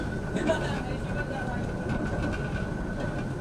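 Inside a suburban passenger train in Perth near Maylands station: a steady, even rumble of the moving carriage with faint rail clatter, loud and close, while someone talks over it.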